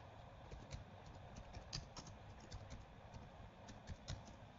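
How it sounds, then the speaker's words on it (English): Someone types on a computer keyboard with a quick, irregular run of light key clicks, fairly quiet and close, with no talk over it. "type in the name of the game."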